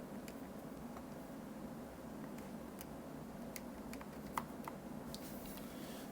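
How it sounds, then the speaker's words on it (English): Faint, irregular key taps on a calculator keypad, a scattered run of light clicks over a steady background hiss, with no voices. "We'll type them in our calculator."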